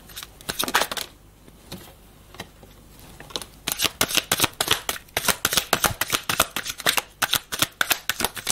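Playing cards being shuffled and handled up close, with riffling flutters and crisp snaps that start sparse and turn into a dense, steady run of quick clicks, with no talking.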